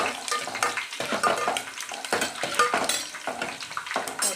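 Green onion sizzling and being stirred in a frying pan for a pulao, with steady frying hiss and repeated scraping, clattering strokes of a utensil against the pan, close and busy throughout.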